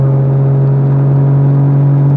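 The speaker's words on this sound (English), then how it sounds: "I do have the RK titanium signature exhaust, which you guys can hear." Toyota MK5 Supra, tuned to about 850 hp and fitted with an RK titanium exhaust, in sport and manual mode on a highway, with a steady loud engine drone and a strong low hum under acceleration, heard from inside the car.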